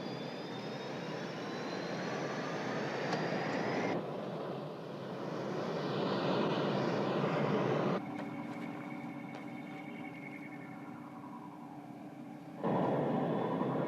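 Sci-fi spacecraft lifting off on antigravity thrust, a sustained roaring whoosh with whining tones that swells and changes character in distinct stages across the sequence.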